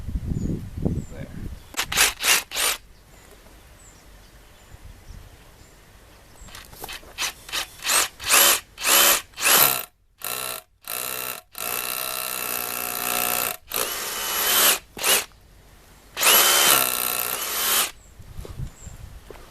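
A DeWalt hammer drill bores holes in wood in a workshop, heard as a series of loud, short buzzing bursts with brief pauses between them, some longer runs near the end.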